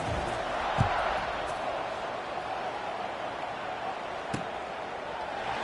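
A steady, dense crowd roar fills an American football stadium in the NCAA 26 video game, Missouri State against Temple, with a couple of brief thuds rising above the constant buzz.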